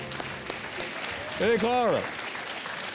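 A studio audience on a quiz show claps steadily beneath a host's voice, with a brief musical sting swelling briefly in the middle and the applause continuing throughout.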